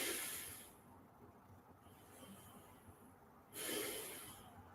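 Slow, long, even breaths taken during a yoga session, drawn in and released as soft airy rushes, one near the start and another near the end, quiet and close with no talking.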